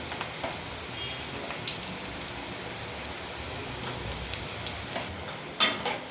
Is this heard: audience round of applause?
no